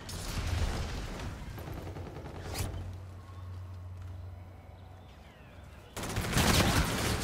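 Call of Duty Infinite Warfare multiplayer gunfire, a rattling burst of shots at the start, a sharp crack near the middle, then a quieter stretch before another loud burst of fire near the end.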